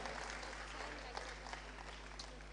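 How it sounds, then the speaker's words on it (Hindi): Applause from the audience at the Pravasi Gujarati Parv conclave, a faint, even patter of clapping with a voice over it, speech in the background. "जोरदार तालियों"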